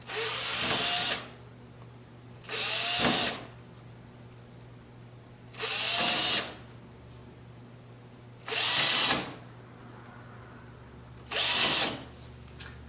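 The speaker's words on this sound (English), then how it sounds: "I have to drill a hole at each one of the intersections" A power drill whirs in five short bursts, each about a second long, drilling holes through graph paper at line intersections, separated by quiet pauses in a steady rhythm.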